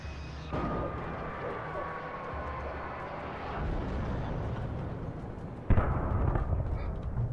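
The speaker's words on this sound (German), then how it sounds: "Jetzt bringen die Vögel den Helikopter zum Absturz." In the video game Alan Wake, a helicopter is brought down by a flock of birds: a steady rotor and engine roar, then a sudden loud crash impact with rumbling debris near the end.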